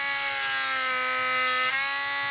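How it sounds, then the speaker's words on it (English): A drill bores holes through a plywood rib for the cockpit of a Windy U Master 826. It gives a steady, close whining drone for the whole moment, with a slight dip in pitch near the end. "I drill the holes and then enlarge them with in this case it's a stone."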